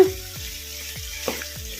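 Chicken for a restaurant-style handi chicken frying in a pan over a medium flame, giving a close, steady sizzle with soft stirring scrapes about every quarter second and no voices.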